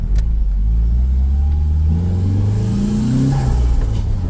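A Nissan SR20DET-engined car accelerates around a parking lot, its engine rising in pitch through a steady, loud rev with a brief dip and climb near the end, close to the listener.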